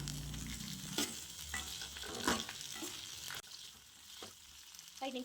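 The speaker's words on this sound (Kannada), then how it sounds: "ಟೊಮೊಟೊ ಈರುಳ್ಳಿ ಕೊತ್ತಂಬರಿ ಸೊಪ್ಪು ಶುಂಠಿ ಬೆಳ್ಳುಳ್ಳಿನ ಆಯಿಲಲ್ಲಿ ಫೈವ್ ಮಿನಿಟ್ಸ್ ಫ್ರೈ ಮಾಡ್ಕೊಳ್ಳಿ" Oily sizzling of onion, tomato, coriander leaves, ginger and garlic frying in oil in a pan, with a few sharp scraping stirs of a utensil cutting through the steady crackle.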